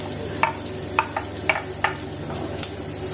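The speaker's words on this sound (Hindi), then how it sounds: "इसमें जीरा, थोड़ी सी सरसों और हींग डाल देती हूँ, जैसे नॉर्मल तड़का देते हैं वैसे ही।" Garlic sizzles in hot tempering oil with cumin, mustard seeds and asafoetida, giving a steady close fry. A spoon clinks and stirs the pan about five times, with no one talking.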